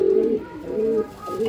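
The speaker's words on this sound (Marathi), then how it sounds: "लाल गजऱ्यामध्ये कबूतर आहेत," Pigeons of Andhra line breed cooing in a loft, a few close, soft rolling coos repeating in a short sequence with no talk.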